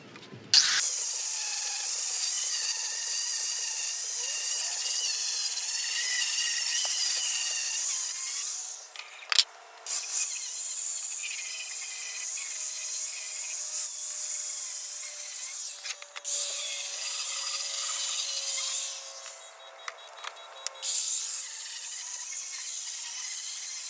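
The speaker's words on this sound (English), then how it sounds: "On my grinder, it'll do well in knocking off the old poly and just evening out the wood, taking it down to good wood." A grinder sands old polyurethane off pallet wood, giving a steady, close abrasive rasp that runs in long continuous passes with a few brief pauses between them.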